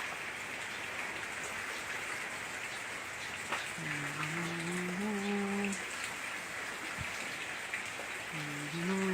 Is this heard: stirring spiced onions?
no